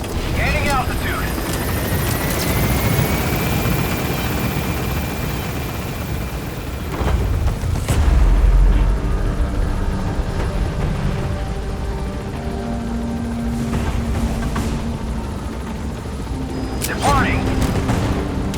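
Pequod, the support helicopter in Metal Gear Solid V: The Phantom Pain, lifting off from a landing zone: steady loud rotor drone and engine whine, with a deep rumble swelling midway, under game radio voices.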